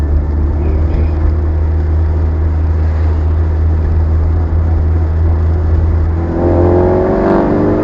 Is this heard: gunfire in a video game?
no